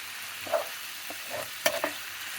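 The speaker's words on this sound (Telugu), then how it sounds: "ఇప్పుడు ఇది వేగుతుంది అన్నమాట" Coriander chutney ingredients with tamarind sizzle quietly in a pan, with a few light scraping and stirring clinks from a spoon. No one speaks.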